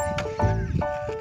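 A horse on a farm plot, with quick hoof clops and snorting or whinny-like sounds across a short stretch, fairly close and loud, with a faint voice in the background.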